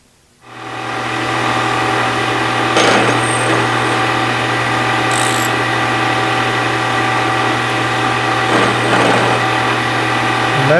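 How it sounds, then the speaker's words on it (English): A steady, loud high-pitched whine from a milling machine cutting with a 1/4 inch end mill on drive hubs for a David Bradley play tractor, running continuously close up with occasional brief chatter. "I think it's time to go to the 1/4 inch end mill, see what that'll do."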